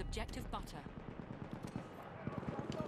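Rapid machine-gun fire in Battlefield 1, a fast steady stream of close, punchy shots rattling on for the full few seconds.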